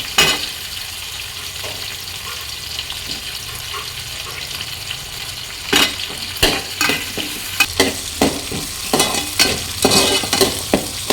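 A whole large onion fries in a pan for a curry with meat and potatoes, a steady sizzle running underneath before sharp scraping stirs and clatters grow frequent and loud in the second half.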